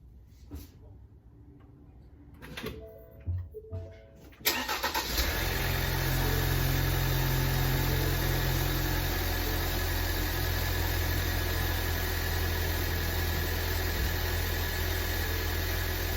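A car engine cranks and catches after engine detailing, then settles into a steady, even idle that runs on, with a few faint clicks and handling sounds before the start.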